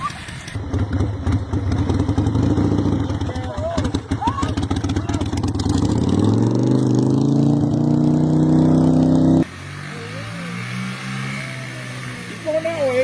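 Motorcycle engine revving loudly and continuously with rising and falling pitch, close by and sustained through most of the span, with voices shouting over it.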